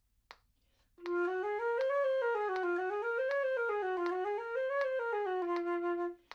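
Solo instrument practice loops from the Georges Hüe Nocturne, a single melodic line rising and falling in repeated waves, clear and close, starting after a brief tap and running unbroken for about five seconds.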